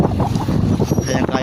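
Steady wind buffets the microphone beside a fishing boat on the sea, a continuous rumbling roar with washing water underneath.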